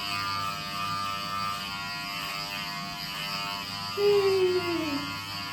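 Electric hair clippers buzzing steadily close by while cutting a one-inch buzz cut, a constant mid-pitched hum with a brief louder, shifting whine near the end as the blades move through hair; no talking.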